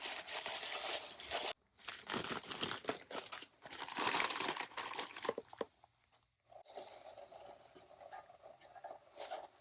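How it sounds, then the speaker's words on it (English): Tissue paper crumpled and crinkled by hand while being tucked into a wreath decoration, close and fairly soft, in bursts of rustling with a couple of brief pauses. "I'm gonna add some tissue paper in here."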